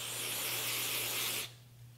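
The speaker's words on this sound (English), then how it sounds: "we'll give them one final spray down of the brake cleaner" One sustained spray of aerosol brake cleaner hisses for about a second and a half, then stops abruptly, leaving a faint low hum.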